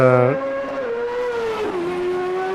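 Race car engine in the Automobilista 2 sim at Road America, a fairly low-pitched steady drone that briefly revs higher at the start, then holds a sustained tone with a small pitch dip midway, loud and alone.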